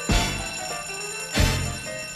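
An Uber Eats app order alert rings loudly from a phone speaker at full volume, two strong bursts of a bright, tonal ringtone about a second apart, each with a ringing tail.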